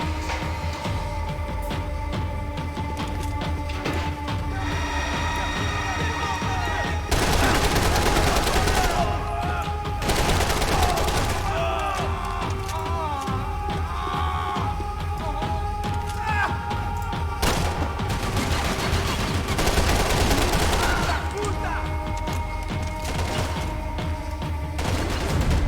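Gunfire in the action shooter Max Payne 3 goes on almost without a break: rapid shots and bursts from several weapons crackle over a steady low rumble, with a louder, heavier fusillade in the middle.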